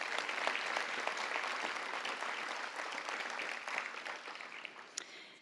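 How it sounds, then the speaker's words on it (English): Sustained audience applause at an evening youth health awards event honoring table sponsors, a dense wash of clapping filling the hall and tapering slightly toward the end. "would you give a round of applause to all of these people?"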